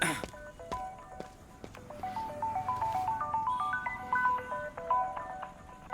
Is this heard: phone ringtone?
yes